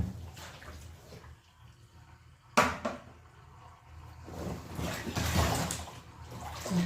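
Water drains from a tub after a duvet has been washed by hand, a steady trickling and gurgling that swells louder toward the end, with a sharp splash partway through.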